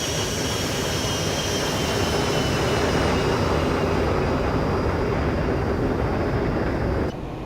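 Steady, loud jet engine roar from an XCrafts ERJ145XR regional jet in the X-Plane 12 flight simulator, a continuous broadband drone with a faint whine above it that drops slightly near the end.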